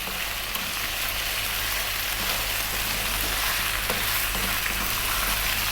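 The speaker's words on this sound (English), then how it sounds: "Let's get that 2 tablespoons of ginger garlic paste in. Start to mix that in now." Ginger garlic paste mixed into a hot frying pan for chicken potato curry, giving a steady, close sizzle with soft scraping stirs throughout and no talking.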